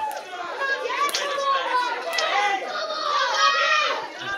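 Friends and families chattering at a junior 8-ball pool team final, with many overlapping adult and children's voices forming a steady indoor crowd murmur and occasional light knocks.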